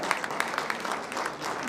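Audience clapping at a public address by India's railway minister, a dense, steady round of applause at moderate distance, filling the short stretch without speech.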